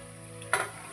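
Chopped tomatoes hit hot oil in a pan for a rice dish, bursting into a loud, bright sizzle about halfway through after a steady low frying hiss.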